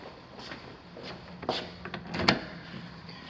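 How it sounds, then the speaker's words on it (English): A door lock is worked with a few soft clicks and small mechanical knocks, close by and fairly quiet in a still interior. "what I'm going to do is I'm going to lock this door"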